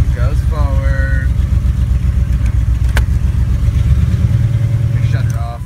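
A 1986 Chevrolet El Camino engine runs loud and close with a steady low rumble, while someone talks over it briefly at the start and end.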